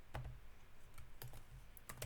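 Keys on a computer keyboard tapped in short, irregular bursts, quiet and close, with no voices over the clicks.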